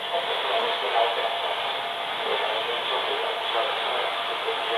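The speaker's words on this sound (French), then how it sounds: "C'est bien le bruit blanc aussi." A steady, even hiss of white noise runs unbroken and fairly loud throughout, with no other sounds rising above it.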